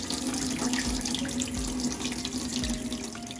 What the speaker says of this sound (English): Now remove the water from the apple.